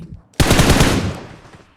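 A burst of automatic gunfire from the battle royale game BGMI, played on a phone, erupts suddenly as a loud rapid volley of shots and then fades into a short echoing tail.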